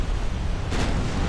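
Battleship blowing up from an ammunition cook-off in the naval game Ultimate Admiral: Dreadnoughts, a loud sustained rumbling roar with a burst swelling midway, dense and heavy throughout.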